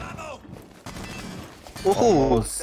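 Rapid bursts of gunfire in a Rainbow Six Siege college esports match, crackling under continuous fast commentary from a caster.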